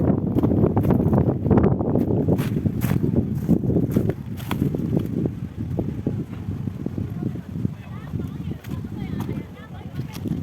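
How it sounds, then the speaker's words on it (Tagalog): Strong wind on Wong Ma Chau Island, Sai Kung, Hong Kong buffets the microphone with a constant low rumble, accompanied by crunching footsteps and scattered clicks close by. "Sobrang hangin."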